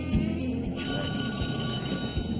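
A telephone rings with a steady, trilling bell tone that runs the whole time at moderate loudness, with no voices over it.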